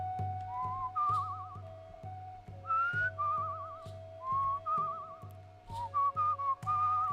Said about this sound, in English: It's strange how the whistling grid seems to be an actual, like, 3-dimensional object, like hovering over your head.